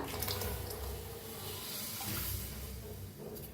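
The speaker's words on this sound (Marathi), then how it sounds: "आता ह्याच्यातच ओतूया 1 ग्लास मी दूध घेतले बघा" A glass of milk goes into a pan of masala tea cooking with sugar, making a steady close rushing pour with a faint bubbling hiss underneath.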